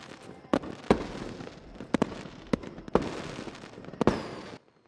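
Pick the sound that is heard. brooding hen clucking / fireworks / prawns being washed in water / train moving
fireworks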